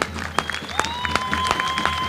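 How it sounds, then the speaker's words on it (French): Brief applause from an audience at the finale of an open-air banda music festival, steady and close, with sharp rhythmic accents and held tones running through it. "applaudissez-le"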